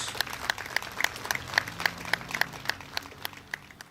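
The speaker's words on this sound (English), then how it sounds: "Let's give our mayor a big round of applause" Audience applause for the mayor at a Veterans Day ceremony in Burbank, a steady patter of many hands clapping at moderate distance, with faint low murmuring beneath.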